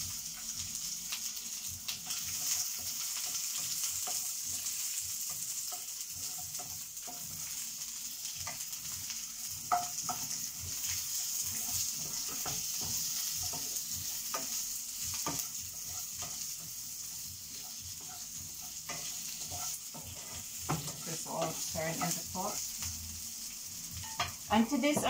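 Onion sizzles and fries in a pot over burned garlic, a steady hissing crackle with occasional stirring scrapes and clinks, close and continuous throughout.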